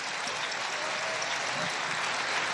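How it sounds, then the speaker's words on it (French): A crowd at Marseille's Vieux-Port applauds parachutists of the 11th parachute brigade as they land, steady and dense clapping from many hands throughout, with no talk over it. "Et la foule qui applaudit. Pour les parachutistes de la 11e brigade."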